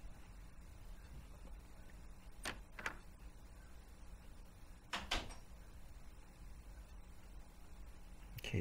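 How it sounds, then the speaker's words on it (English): A door unlocking in the PS1 game Juggernaut, two pairs of short mechanical clunks and clicks over a low background hum. "that unlocked the door"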